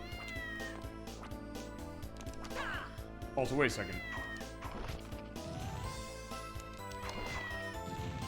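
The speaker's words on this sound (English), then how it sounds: "it sounds like a cat" Cat meow from the Castlevania video game, a short rising cry mixed into busy game music, with someone talking over the soundtrack.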